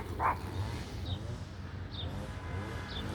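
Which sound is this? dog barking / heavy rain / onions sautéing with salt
dog barking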